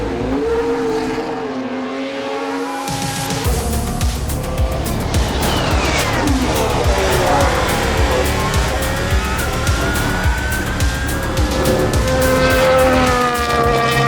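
A Haas Formula One car leaves on hard tyres, its engine roaring loudly and continuously up close, the pitch rising and falling as it accelerates, with a brief tyre squeal.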